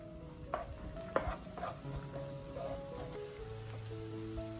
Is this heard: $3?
no